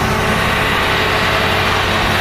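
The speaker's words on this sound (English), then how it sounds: "bring the truck back down to an idle" A Darley Max Tactical Pumper fire truck engine idles with a loud, steady, even rumble that holds without change, close by and alone.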